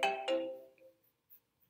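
A phone rings for a verification call, two quick chiming tones at the start that fade out, followed by a few faint blips in near silence.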